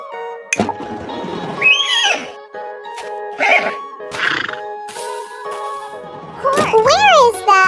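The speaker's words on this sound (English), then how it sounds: "Horse." A horse neighs and whinnies several times, with drawn-out rising and falling calls that are loud and close, against a quiet background and ending in a longer, strong whinny.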